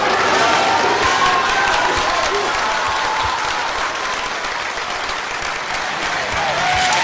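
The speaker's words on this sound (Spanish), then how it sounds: "lo recibieron con aplausos en la entrada del edificio de gobierno" A crowd of cabinet members and lawyers applauds López Obrador at the entrance of a government building, loud continuous clapping with scattered cheers and voices mixed in.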